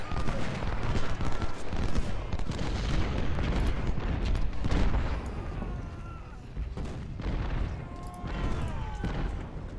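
Massed troops fire muskets and artillery in the Civil War strategy game Ultimate General: Civil War, set around Sharpsburg. Continuous crackling volleys and booming shots overlap with thin whistling projectiles, loud and unbroken throughout.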